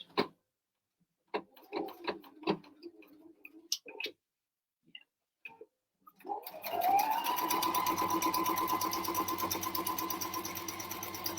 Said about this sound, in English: I'm going to go ahead and stitch on around.